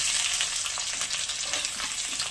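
Bay leaves and whole garam masala sizzle loudly and steadily in hot oil in a home kitchen while a dried-fish curry is being cooked, a dense unbroken frying crackle from start to finish.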